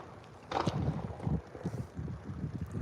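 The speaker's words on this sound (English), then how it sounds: "We've got another hire boat now coming down the river" A hire boat motors along the river at Potter Heigham, its low engine rumble faint and uneven beneath gusts of wind buffeting the microphone.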